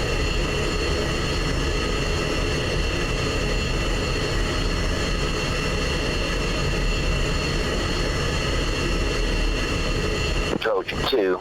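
An F-16 jet engine in a flight simulator game taxiing toward the runway, a loud, steady whining roar that drones on unbroken and ends in a short burst of disturbance.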